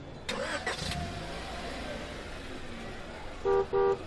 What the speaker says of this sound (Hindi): तीसरी बार कार का हॉर्न बजा के